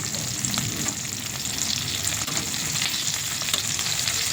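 Dried fish (tuyo) frying in a pan at breakfast, a steady close crackling sizzle with scattered pops running throughout, no voices.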